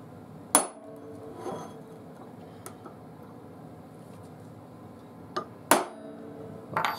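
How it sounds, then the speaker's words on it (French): Hammer tapping a steel nail set during woodturning texturing work with Robert Sorby tools, heard as a few sharp, isolated metallic strikes spaced several seconds apart, fairly close and alone against a quiet background. "Avec un chasse-clou et un marteau."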